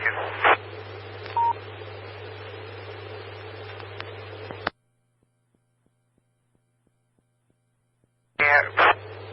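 DTMF telephone dialing tones sent over the 146.970 MHz Pikes Peak FM Association amateur radio repeater autopatch come as short, sharp beeping bursts over a humming radio carrier, with a dead silent gap before a final cluster of tones.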